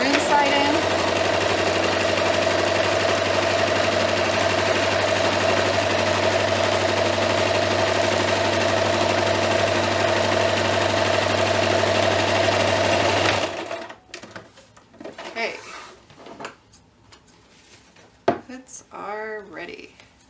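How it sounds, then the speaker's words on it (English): A sewing machine chain stitches the maroon seam of a Harry Potter costume robe, a loud, steady, close mechanical whir that runs about thirteen seconds and then stops abruptly, followed by quiet handling noises and a voice talking. "And then we're just going to chain stitch the maroon side in."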